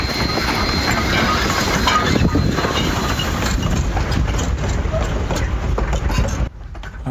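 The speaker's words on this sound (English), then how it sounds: "Here comes the train." A train arrives at a station, its broad rumbling rail noise steady and fairly loud throughout, with wheel and carriage clatter, then dropping off sharply near the end.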